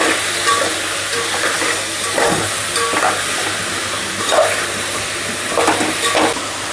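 Tomatoes cook in a pan over a low flame for a home-style veg sambar, giving a steady soft sizzle with a few stirring scrapes and clinks of a utensil against the pan.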